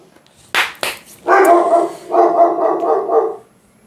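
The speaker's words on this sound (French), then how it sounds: "il y a mon chien qui se met à aboyer." A pet dog named Thor barks indoors: two sharp barks, then a longer run of rough, sustained barking, loud and close, with no talk over it.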